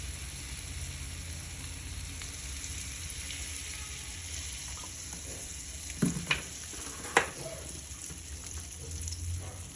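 Butter and oil sizzle in a heated pan with a constant, close hiss and crackle, broken by a few sharper clanks and stirring knocks partway through.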